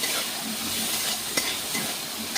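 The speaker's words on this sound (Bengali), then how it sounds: "দিয়ে একটু হালকা করে নাড়বো" Vegetables with green peas fry in a pan with a steady loud sizzle while a spoon stirs through them, one sharper scrape near the middle.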